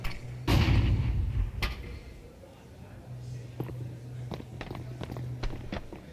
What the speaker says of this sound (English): they're going to hear both footsteps